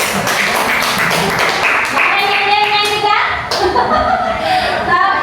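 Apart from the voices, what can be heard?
classroom applause for group 1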